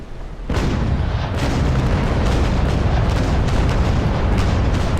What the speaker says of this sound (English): now I'm turning starboard side and I'm making sure that I give him another broadside